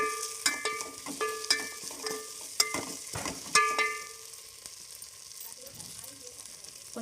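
Stirring a sizzling tempering (bagara) of ginger in a frying pan, with repeated scrapes and taps of a spoon over steady frying hiss, close up, fading to quieter sizzling with faint voices near the end.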